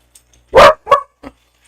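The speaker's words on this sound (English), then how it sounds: "What are you barking at?" A dog barks near the microphone during a live college softball broadcast: two loud, sharp barks in quick succession, then a softer third one, against an otherwise quiet background.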